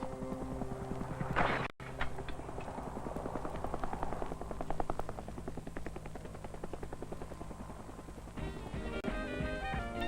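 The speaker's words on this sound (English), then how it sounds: "The helicopter is dropping me" A helicopter's rotor chops in a fast, steady pulse, joined by a brief burst of noise and some tonal sounds toward the end.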